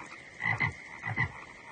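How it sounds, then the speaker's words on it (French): Frogs croak in two paired bursts, each a quick double call, standing out against a softer background chorus of more frogs, fairly close and with no talking. "Vous entendez toutes ces grenouilles?"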